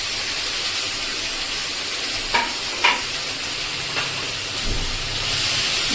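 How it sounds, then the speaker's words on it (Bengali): Onion and capsicum fry together in a pan, giving a steady broad hiss with a few brief scraping stir clicks partway through, close and moderately loud with no voices. "দুটোই ভালো করে ভাজা হয়ে যাবে পেঁয়াজের সঙ্গে।"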